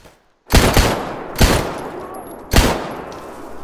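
Three sharp, loud gunshots in STALKER Anomaly GAMMA, each a close crack followed by a rolling echo tail, spaced about a second apart after a short silence.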